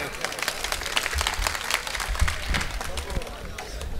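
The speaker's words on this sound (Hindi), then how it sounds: "एक बार बब्बू भाई का तालियों के साथ स्वागत करें।" A crowd at a political gathering bursts into sustained applause as a speaker is welcomed, dense clapping filling the whole stretch with a steady, lively roar.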